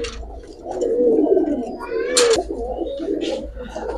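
Pakistani high flyer giribaz pigeons coo in low, throaty, repeated calls close by, with a few brief chirps and a steady murmur of background noise.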